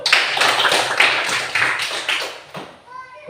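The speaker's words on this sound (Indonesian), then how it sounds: "Kita tepuk tangan dulu." Applause from a classroom of students for a group, with patter and clapping running steadily under overlapping talk before fading out.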